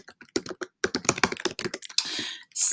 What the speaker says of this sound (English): Typing is hard and talking at the same time.